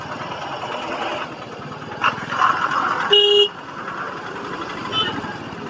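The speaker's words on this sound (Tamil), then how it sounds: "ஸோ ஹெவி டிராஃபிக்காக இருக்குது" Heavy road traffic on the route to Thiruchendur rumbles with engines close by, and a loud car horn blares for a moment midway while other honks sound around it.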